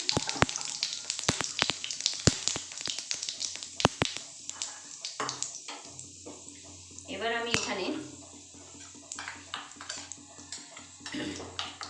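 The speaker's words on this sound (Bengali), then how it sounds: "তেল গরম হয়ে গেছে এখানে গোটা গরম মশলা মানে দুটো এলাইচি আর দুটো দালচিনি দিয়ে দিলাম" Whole garam masala, two cardamom pods, two cinnamon sticks and whole cumin, dropped into hot oil, crackling and spitting in sharp pops over a soft steady sizzle, with clinks of a pan and a voice talking over it.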